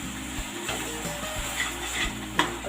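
Tomato puree sizzles in a kadhai while being stirred for paneer butter masala, a steady frying hiss with faint scraping touches throughout, no speech.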